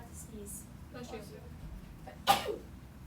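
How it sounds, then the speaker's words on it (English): One sharp sneeze bursts out near the end in a classroom, loud and brief, after quiet murmuring and a short spoken phrase. "About to sneeze."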